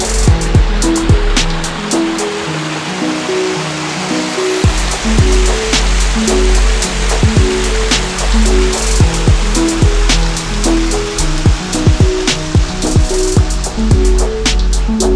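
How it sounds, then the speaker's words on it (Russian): The Srednyaya Khortytsia river rushes steadily through a wooded gully near Zaporizhzhia, a loud, continuous wash of flowing water with no break and no talk over it. "Река Средняя Хортица, Колян."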